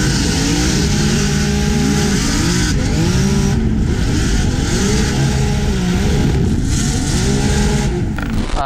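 A GTR-engined Nissan 370Z drift car revs hard and loud, its engine note climbing and falling in repeated sweeping pulls, close and continuous with no talking.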